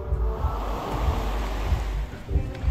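Waves lapping and breaking along the sandy shore of Lake Victoria at a beach, a steady rolling wash with soft surges and light wind noise, close and fairly loud.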